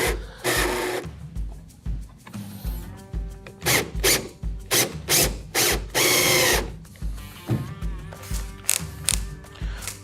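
A cordless drill drives a screw into a plastic hatch fitting on a Hobie Mirage Passport 12 kayak, short whirring bursts in quick succession with pauses, one longer run, close up and loud, no talking.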